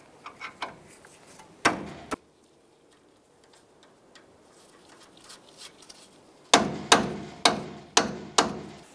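A hammer knocks on the outer tie rod of a 2004–2012 Chevy Colorado during a tie rod replacement, with sharp metallic strikes in a few bursts and a quick steady run of blows at the end, up close.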